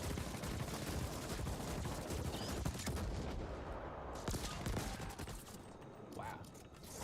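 Turrets in a Necromunda video game fire in dense, continuous rattling volleys, loud gunfire clatter that fills the whole stretch with mechanical clanks mixed in.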